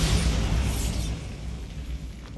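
A Bombarda blasting spell from the Hogwarts Legacy video game goes off as a loud, close boom with a bright crackling burst at the start, then a rumbling tail that fades over a couple of seconds.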